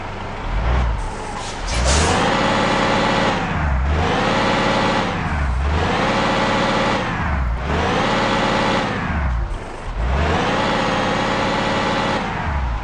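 A Jet Bus 3 mod bus engine in Bus Simulator Indonesia runs steadily with a deep, loud drone that swells and dips in a slow, regular pulse, alone without talk.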